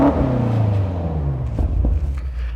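A stock BMW M5 on its factory exhaust revs alone and up close, engine note falling steadily as the revs drop back over a couple of seconds, with a deep continuous rumble underneath.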